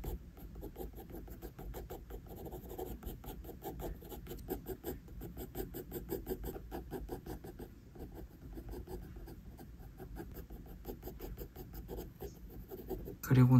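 A pencil draws the lips of a portrait on paper in steady, rapid scratching strokes that run continuously and close for the whole stretch, with a brief louder knock at the end.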